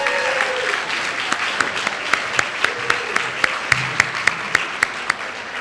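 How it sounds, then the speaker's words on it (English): Audience applause at an arts awards event, a mixed crowd clapping steadily, moderately close, with individual claps becoming more distinct and rhythmic toward the end. "Let's give a round of applause to Mark Jones for that wonderful piece."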